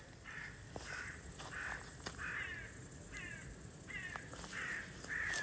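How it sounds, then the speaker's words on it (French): Several crows caw repeatedly in short harsh bursts from a moderate distance outdoors, over a steady high insect drone, with no talking. "Tu les entends tous les corbeaux là qui..."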